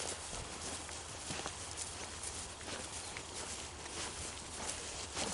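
A herd of sheep walks past on an outdoor hillside, their hooves shuffling and clopping in a steady, continuous patter over rustling background noise, with no talk.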